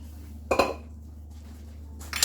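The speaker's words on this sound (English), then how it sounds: "let's get this stirred around, because we definitely don't want it to scorch" A utensil scraping and clinking against a pan while Alfredo sauce is stirred, two brief metallic clatters separated by a quiet pause over a low steady hum.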